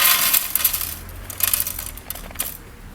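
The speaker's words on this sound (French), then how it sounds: "Là, on va ouvrir le dernier sachet." Crinkly plastic rustling as a small bag of LEGO set 40818 pieces is torn open outdoors, a few sharp crackles and bursts over about three seconds, close and fairly loud.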